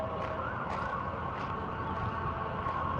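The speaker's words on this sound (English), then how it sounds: "It's a police car coming." Police car siren wailing, faint and muffled under a broad wash of city traffic noise, with a steady tone across the short stretch.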